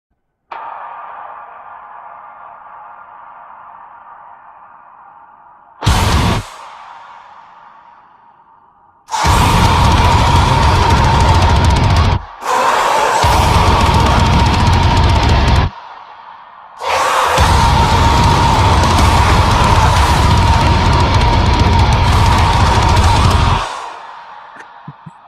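AI-generated metal from a neural audio model, heavy distorted bursts that cut in and out abruptly, loud dense walls of noisy guitar-like sound separated by brief gaps and a thinner hazy tone at the start.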